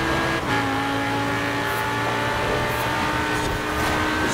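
Race car engine in a racing video game revving hard and accelerating, a loud continuous high-pitched whine with steady tonal harmonics and brief gear-shift dips, no talking.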